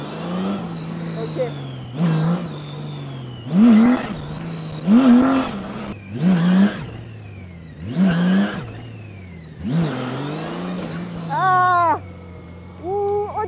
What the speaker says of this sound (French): c'est un V8, ah 6 cylindres, V6, ouah la vache, eh, ça a du couple hein